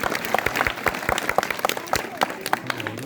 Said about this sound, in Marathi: चला ह्यासाठी टाळ्या वगैरे जोरदार